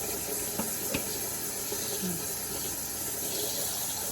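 Tap water runs steadily into a sink used for a baby's bath, a continuous close splashing flow with a couple of faint knocks, no voices.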